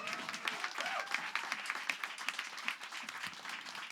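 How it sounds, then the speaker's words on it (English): A small audience at an evening event on anti-racist organizing claps steadily, the distinct hand claps sounding fairly faint and somewhat distant throughout. "Yeah, let's clap for that."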